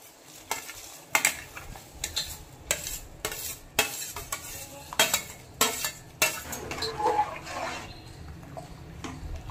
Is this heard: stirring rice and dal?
yes